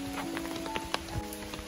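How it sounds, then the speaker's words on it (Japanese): Rain falling with strong wind at the Okayama Gokoku Shrine Mitama festival at night, a dense patter of drops striking surfaces with scattered sharper taps, close and continuous. "やっぱり風が強いのと雨が降ってるので"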